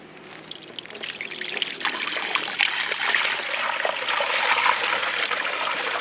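Water pours steadily through a towel to strain out debris while filling buckets from an emergency water source, a close, continuous trickling and splashing that builds slightly in intensity throughout.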